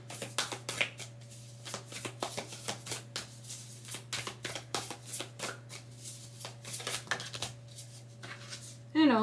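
Tarot cards are shuffled by hand in quick, close riffles and soft slaps, a rapid run of crisp bursts over a steady low hum, ending with a brief voice.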